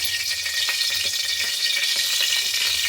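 Green chillies, garlic and mint leaves frying in oil for an idli chutney give a steady, close sizzle with faint stirring clicks throughout, and no voices.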